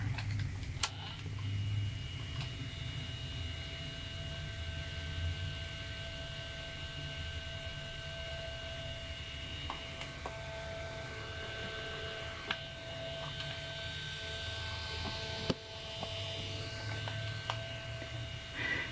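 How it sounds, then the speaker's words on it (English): A faulty Walkman cassette player's motor runs continuously with a steady electrical whine and low hum, joined by faint scattered ticks and clicks, quiet and close with no talking. "the motor is kind of loud is another indicator that it is sort of having issues"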